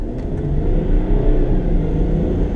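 Land Rover Discovery 4 engine pulling under acceleration, heard from inside the cabin as a steady low rumble and drone that swells slightly midway, continuous and moderately loud with no talking.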